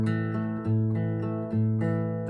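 A short fingerpicked fill on acoustic guitar, using a hammer-on, with several ringing plucked notes in quick succession, close and clear with no talking.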